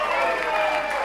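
A crowd applauds at a 2014 rautalanka instrumental guitar band concert in Nastola, Finland: steady, dense clapping that fills the whole moment at even loudness with no break.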